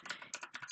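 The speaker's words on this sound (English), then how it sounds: "we're going to have to type in pip" Rapid keystrokes on a computer keyboard while entering a command at a Windows command prompt, a quick burst of close, crisp clicks with no voice over them.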